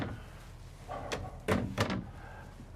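Drawers in a Jayco Seneca 37HJ RV slide and shut with a few quiet wooden thunks and knocks against a soft room hush.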